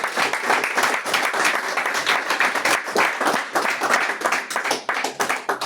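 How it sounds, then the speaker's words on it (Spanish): A church congregation at a men's conference applauds steadily and loudly for several seconds, dense overlapping claps filling the room with no talk over them. "Den un aplauso al Señor."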